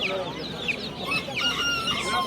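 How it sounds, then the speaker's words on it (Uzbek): Chicks and roosters at a poultry market give a busy overlapping chorus of high peeping and clucking close by, with short calls repeating irregularly and a little background chatter underneath. "Mana jo'jalar."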